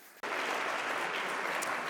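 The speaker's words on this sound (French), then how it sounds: "est-ce que vous pouvez l'applaudir" An audience at an international labour conference session breaks into sudden, steady applause that starts sharply and holds at an even level, moderately loud and without talk.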